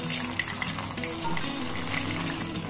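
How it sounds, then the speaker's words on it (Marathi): Breaded chicken poppers frying in oil over low heat, a steady close sizzle and bubbling that continues evenly throughout. "मंद गॅसवर तळायचे आहेत हे आपल्याला"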